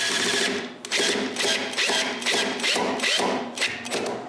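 A power drill bites into wood in a series of short, close whirring bursts with brief pauses, as screws are driven into a homemade wooden edge sander in a workshop.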